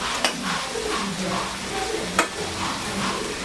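Vegetables for borabati curry fry in a pan with a steady soft sizzle, stirred by a utensil that gives a couple of sharp clicks against the pan, close and moderately quiet.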